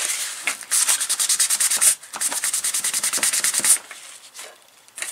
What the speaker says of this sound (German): Jetzt schleife ich das gleich einmal ab